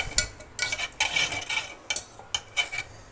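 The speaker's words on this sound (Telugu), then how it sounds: "చూస్తున్నారు కదా, ఇది ఇట్లా మిక్స్ చేసుకుంటూ వెళ్ళిపోండి" Caramel pudding mixture stirred in a pan over a medium flame, with irregular close scrapes and clinks of a metal spoon against the pan and faint sizzling between strokes.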